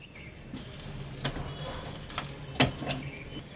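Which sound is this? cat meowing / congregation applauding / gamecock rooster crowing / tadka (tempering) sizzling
tadka (tempering) sizzling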